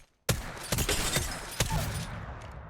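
Several sharp 30-30 Repeater rifle shots in Apex Legends, three or four loud cracks spaced about half a second to a second apart, each with a short decaying tail.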